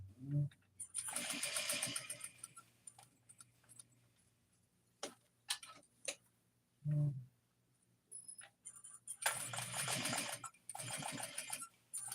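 A home sewing machine runs in bursts while stitching a pair of joggers, with two long whirring runs and shorter stops and starts between them, close by and with no talking.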